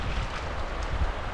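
Steady wind noise rumbles against the microphone while fly fishing for cutthroat trout, a broad continuous roar with low buffeting gusts and no voices.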